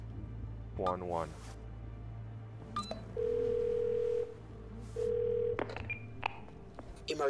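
Phone dialing in the Twelve Minutes video game: a run of short tonal keypad beeps, then two long steady dial tones with a pause between, close and clear over a low background hum, with brief voice sounds around them.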